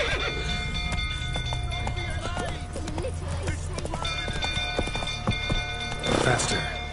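Roach the horse gallops through The Witcher III with rhythmic hoof clip-clops and an occasional whinny, layered over game music and a crackling fire, while a voice speaks throughout.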